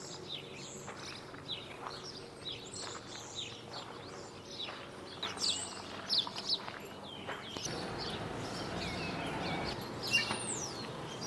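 Small birds chirp and tweet repeatedly around a bird feeder in a village centre, a busy overlapping chorus of short calls against steady outdoor background noise.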